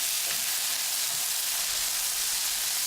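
Bell peppers and fresh Roma tomatoes sauté in a pan, giving a steady, soft sizzling hiss throughout with no talking.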